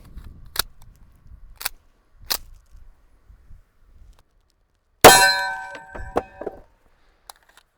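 A .45 bullet strikes a steel target with one sharp ringing clang that decays over about a second, preceded by a few distant shot cracks and followed by a faint tap.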